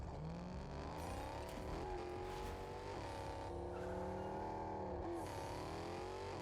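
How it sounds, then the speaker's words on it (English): A Tesla Cybertruck drives through a Fortnite match, its engine droning steadily with rising and falling revs and tire noise, loud and close throughout with no talk over it. "Gotta do wheelies with my Cybertruck, clearly"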